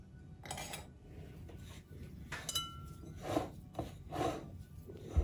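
Poha dough being kneaded and mixed by hand in a bowl, with soft irregular squishing and rubbing strokes and occasional light scrapes, close and fairly quiet, with no talking.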